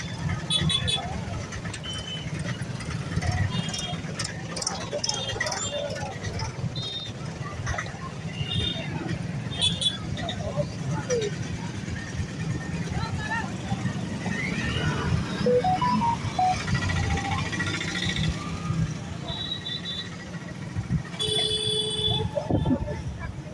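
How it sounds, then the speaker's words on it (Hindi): A road traffic jam on the Muzaffarpur–Chhapra route in Bihar, India, gives a steady rumble of engines and crowd noise. Short car horn toots come near the end, and people talk throughout. "आप लोग देख सकते हैं काफ़ी जाम लग चुका है।"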